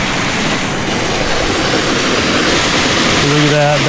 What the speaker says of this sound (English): You got a little waterfall right there.